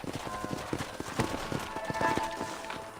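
Horse hooves clip-clop in steady running rhythm through Red Dead Redemption, a mounted group riding across open country, the beats close and moderately loud with faint background ambience.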